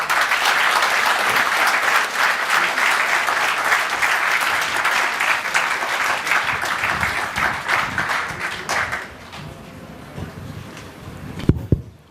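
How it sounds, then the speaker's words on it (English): Loud crowd applause after a lecture rolls on for several seconds, then thins to a few scattered claps and room noise, ending with a sharp knock near the close. "Please keep the applause coming"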